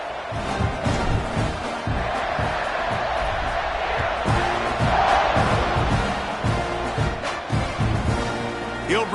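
A stadium crowd roars steadily in the NCAA 26 college football video game, a dense, continuous wall of cheering with a few thumps and swells but no clear voice on top.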